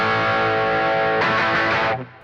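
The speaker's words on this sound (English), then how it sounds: "I have the Les Paul and the Mystic Edge," A Les Paul electric guitar through a Mystic Edge distortion pedal rings out a sustained overdriven chord, then a fresh strum, then cuts off abruptly, loud and alone.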